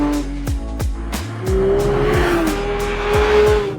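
A Porsche GT3 at the Brands Hatch circuit, its engine revving up and down through repeated sharp gear changes, with tire squeal as it drives hard on track; loud and close throughout.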